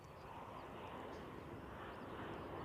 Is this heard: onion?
no